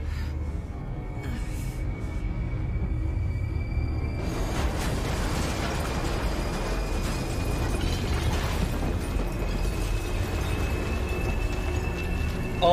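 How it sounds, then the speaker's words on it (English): A huge explosion in the video game NieR: Replicant swells into a dense, continuous rumbling roar with crackling bursts, loud and sustained, with a tonal hum layered underneath. "Now he's using the final explosion that Vegeta used."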